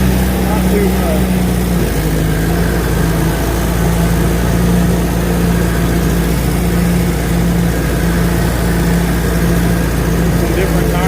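The engine of a 548 skidder runs at a steady idle, a loud, close low drone with a sustained hum and no breaks, and a voice talks over it.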